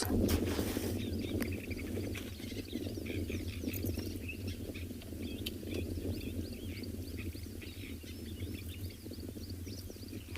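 A male red-backed shrike calls from dry branches on a sunset safari, giving scattered thin chirps at a distance over a steady bed of outdoor background noise.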